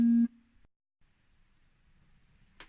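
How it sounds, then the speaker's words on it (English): A phone ringing during a craft session with swatch doll transfers, a single short loud electronic tone at the start followed by quiet room sound and a faint rustle. "Oops, phone's ringing."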